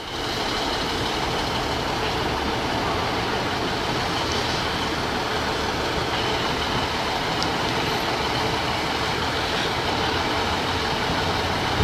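Arriva Trains Wales train idling at a platform in Chester: a steady loud engine drone that holds even throughout, with faint station noises and no talk.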